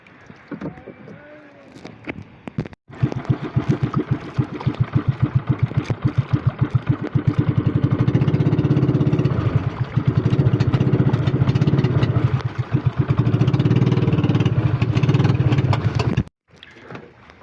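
A loud small fishing-boat engine at sea chugs steadily with a rapid rhythmic throb, starting abruptly after a brief quiet moment and cutting off near the end.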